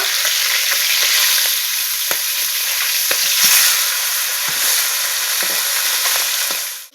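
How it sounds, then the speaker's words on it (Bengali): Freshly caught river fish frying in hot oil in a wok, a loud continuous sizzle with occasional soft knocks and scrapes as the pieces are turned over. "এখন আমি উল্টো পাল্টা করে মাছগুলো ভেজে নিব"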